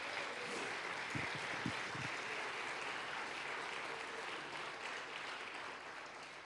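A church congregation claps in a steady, diffuse wash of applause, fairly faint and distant, with a few sharper knocks or claps early on and no clear speech.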